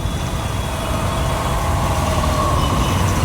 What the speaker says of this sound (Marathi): बाबो, काय ट्रॅफिक केली आहे.